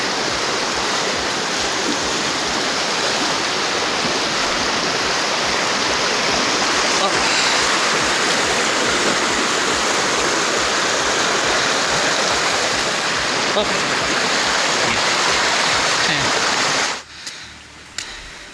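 Loud, steady rush of a strong-flowing stream on a trek to Talon ni Eva, DRT, Bulacan, fills the whole clip, broadband and continuous, then drops off abruptly near the end.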